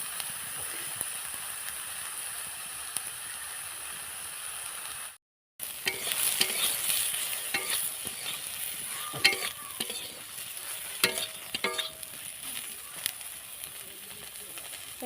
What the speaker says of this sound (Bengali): সোয়াবিনগুলো একটু ভাজা হয়ে যাক